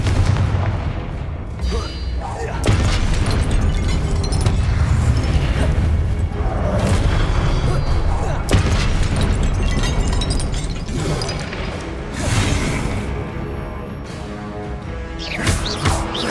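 Blasting-spell explosions from the video game Hogwarts Legacy, loud repeated booms and crackling bursts packed densely throughout with brief lulls, over game music and effects.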